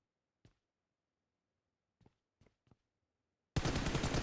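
PUBG Mobile gunfire: a single shot, a pause, then three quick shots in a short burst, sharp against near silence, before a loud wash of noise cuts in at the end.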